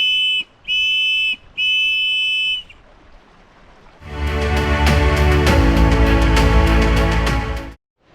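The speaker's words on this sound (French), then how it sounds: "le petit sifflet sur le couteau, c'est aussi pas mal pour avertir les animaux de votre présence" Small whistle built into a knife blown three times in short shrill blasts, followed by a long loud rushing noise that ends abruptly, close and with no talk.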